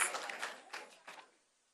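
Audience applause at a national student pinning ceremony, a soft, distant patter of clapping that rises in a few small surges and fades out quickly.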